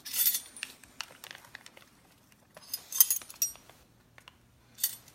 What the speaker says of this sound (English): stir as fast as we can